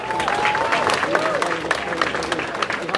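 A crowd at a street protest against internet censorship (ACTA) claps and cheers, with scattered sharp claps and voices, including a rising shouted vowel, mixed into the lively noise.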